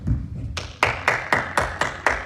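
Church congregation at a Sunday evening service clapping together for the Lord: about seven sharp, evenly spaced claps in a steady rhythm, close and loud over a low murmur.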